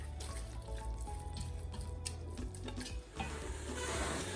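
Cassava leaves (pondu) simmer in a pot while being stirred, giving a steady close bubbling and sizzling with faint scraping stirs throughout and no talk.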